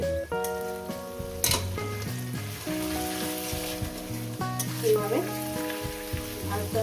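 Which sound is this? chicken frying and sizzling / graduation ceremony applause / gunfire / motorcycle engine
chicken frying and sizzling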